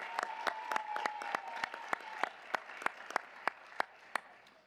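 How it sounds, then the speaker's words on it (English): A meeting audience applauds after a Teacher of the Year honour, sparse distinct claps ringing out at a moderate distance and thinning toward the end, with a faint tone lingering underneath early on. "One more round of applause"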